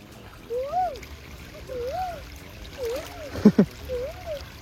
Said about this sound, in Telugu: ఆ సౌండ్ చూడండి ఎంత ప్లెజెంట్గా ఉందో, వాటర్ ఫ్లో సౌండ్